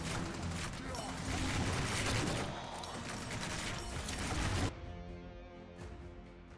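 Homing missiles firing in the video game R.I.P: a dense, continuous barrage of rapid shots and impacts runs for several seconds, cuts off abruptly, and leaves a fainter mechanical tail.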